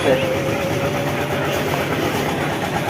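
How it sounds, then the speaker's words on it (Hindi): A generator runs at a Lucknow fairground ride during the Daliganj Budakki mela, giving a steady, loud engine drone with a faint whine that holds for the whole stretch amid crowd noise. "यहाँ पर चल रहा है ये जनरेटर"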